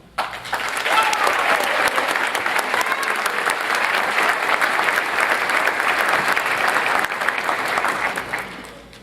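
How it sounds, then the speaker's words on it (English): A crowd at a high school scholarship awards ceremony claps steadily and enthusiastically for several seconds, a dense even patter that holds strong before tapering off at the end. "please give a round of applause to the winner of this year's PTO Scholarship winner, Taylor Holden."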